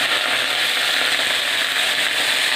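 Bottle gourd greens hitting a hot pan with oil, chilli and chopped tomato, giving a loud, steady, dense sizzle and frying hiss that holds throughout without pause.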